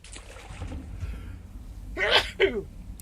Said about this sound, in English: As I say that, I have to sneeze.